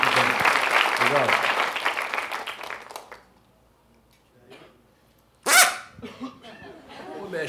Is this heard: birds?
no